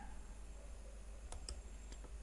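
Computer mouse clicks on a Windows PC, a few sharp faint ticks spaced apart over a low steady hum, no talking.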